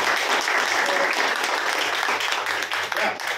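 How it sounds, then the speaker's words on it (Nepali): Audience applause at a church gathering, steady and dense clapping from a crowd filling the space for several seconds, with a faint voice mixed in underneath. "ताली बजाउनु सबैजनाले गर्दा है"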